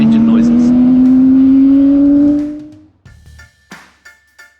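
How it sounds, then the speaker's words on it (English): A Honda CBX1000 six-cylinder motorcycle with a Moto Martin tank revs up in a loud, smooth rising wail, then drops away into a series of short, sharp blips of the throttle. "But no CBX video without some engine noises."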